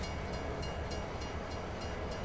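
Rolling train cart in the farming game Farming Simulator 22, loaded with sugar beets, giving a steady rumbling rail noise with faint rhythmic clicks, continuous and fairly close.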